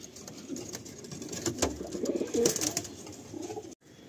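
Andhra Fulsira pigeons coo in soft, repeated rolling calls close by, with a few louder bursts over a light background hiss.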